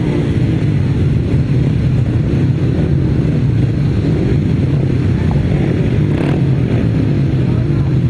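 500cc solo grasstrack motorcycles racing, a dense, loud engine roar with wind buffeting that holds steady throughout, the bikes blending into one continuous drone.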